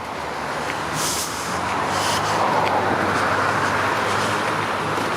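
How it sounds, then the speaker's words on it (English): A city bus approaches and rolls past on Gulliver Road near Keele Street in Toronto at early evening, its engine rumble swelling over steady traffic noise, with brief airy hisses early on. "Oh, I see a bus coming."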